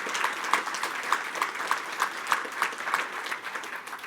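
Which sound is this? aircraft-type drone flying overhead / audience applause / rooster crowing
audience applause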